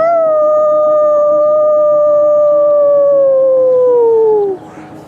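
A single long wolf howl, loud and close, holding a steady pitch for several seconds before sliding down and breaking off, alone with no talking.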